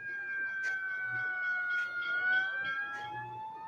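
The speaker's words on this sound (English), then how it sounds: "You got the fire engine sound." Fire engine style siren on a roller coaster ride, a steady sustained wailing tone holding nearly level throughout, fairly loud and close, with light background clatter and no talking.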